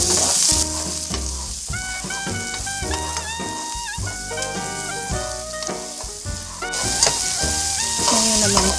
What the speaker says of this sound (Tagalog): Ngayon pong mainit na ang ating kawali ay igigisa na natin itong bawang.